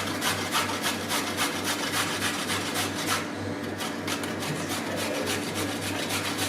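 A raw carrot is rubbed over a coarse grater in quick, regular rasping strokes, a close and steady scraping rhythm with a brief pause midway.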